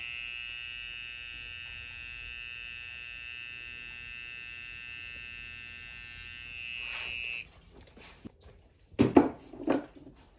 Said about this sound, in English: If you have a trimmer in your hands, you want to line it up, get rid of all those lines as well.